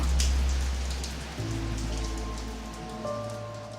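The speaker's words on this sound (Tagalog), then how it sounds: "Oo nga, pero ang lakas ng ulan." Heavy rain pours steadily during a storm, a dense close wash of drops drumming on surfaces throughout, with a low rumble underneath and no voices.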